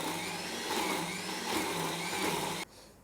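A mixer grinder whirs loudly and steadily, blending soaked flattened rice and semolina with a little water into batter, then cuts off abruptly near the end.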